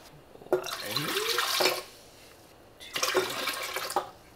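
Room temperature water pours into a yeast mixture for focaccia dough in two separate splashing bursts, each lasting about a second, close and fairly loud, with no talking.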